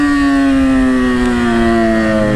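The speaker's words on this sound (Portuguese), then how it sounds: "Caraca, esse XJ berra demais" A Yamaha XJ motorcycle engine roars loud and close, a steady sustained drone with a strong harmonic whine that holds level and sinks slightly in pitch.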